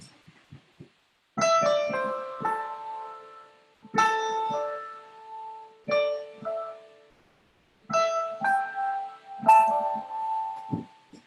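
A short, simple melody of bell-like synth notes plays in repeating phrases with brief pauses between them, clear and fairly quiet, no voices.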